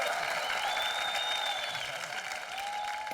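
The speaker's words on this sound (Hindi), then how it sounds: "जोरदार तालियां।" Steady, dense studio audience applause fills the space on a comedy talk show, with whistles and cheers rising over the clapping throughout.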